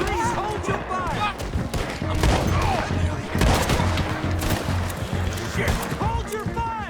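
Gunfire in the video game Red Dead Redemption 2, with rapid shots crackling through a busy firefight while voices shout over it throughout.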